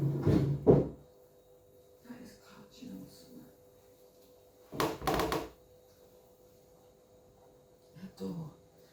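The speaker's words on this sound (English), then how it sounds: "that bedroom door, I've told them that it's catching on stuff" A bedroom door catches on something as it is opened and closed, giving three separate bumps and scrapes spread across several seconds, fairly close by, with quiet voices murmuring between them.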